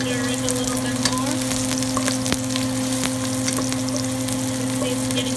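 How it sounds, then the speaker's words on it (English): Vegetable noodles frying in a pan, a dense steady sizzle up close with occasional light clicks and scrapes of stirring and a faint constant hum underneath. "I'm gonna stir it a little bit more."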